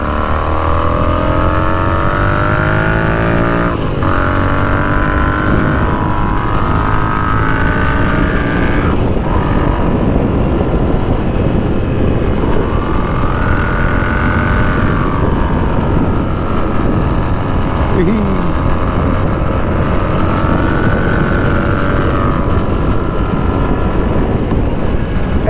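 A Royal Enfield Continental GT 650 twin motorcycle ridden around town, its engine loud and continuous, rising and falling through gear changes and throttle blips with wind rush, no talking.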